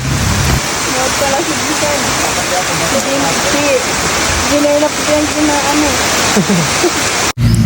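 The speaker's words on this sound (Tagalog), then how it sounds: "At dahil nga medyo lumakas ang ulan ay nagpatila muna kami dyan ng kaunti" Heavy rain pours down in a steady, dense roar throughout at Sitio Giwanon, with voices talking faintly beneath it.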